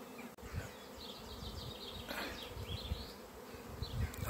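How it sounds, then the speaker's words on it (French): Huge honeybee swarm in an exotic garden, a dense continuous buzz of many bees, with individual bees droning past close by, fairly faint overall and without talk. "j'ai un essaim d'abeilles énorme"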